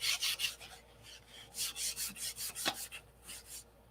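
Sandpaper rubs back and forth over a P-47 model flap in quick rhythmic strokes, each a soft raspy scratch, close and fairly quiet with a few brief pauses.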